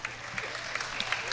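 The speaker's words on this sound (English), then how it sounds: "so we get a round of applause for" Audience applause at a Thoroughbred Makeover show hunter finale, a steady wash of clapping from a crowd in an arena that continues evenly throughout without a clear start or end.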